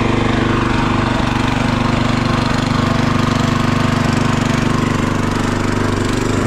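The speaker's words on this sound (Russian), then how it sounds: "Газом регулируем обороты." A DOZER G7 walk-behind tractor's small engine runs steadily and loud up close, a continuous rough chugging drone with a dense rhythmic rattle, its revs set by the throttle.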